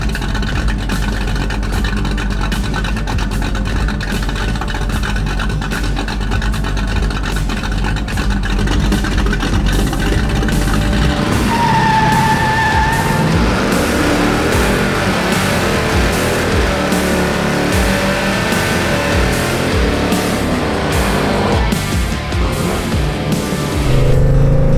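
A 1969 HEMI Road Runner muscle car roars at full throttle, its engine revving hard and loud for the whole stretch, with a rising squeal from the tires partway through during the burnout.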